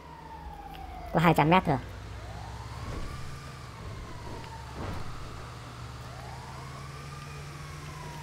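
Ambulance siren in GTA V, a wailing tone rising and falling in slow sweeps at moderate distance beneath traffic noise, with a short burst of horn-like tones early and someone speaking briefly.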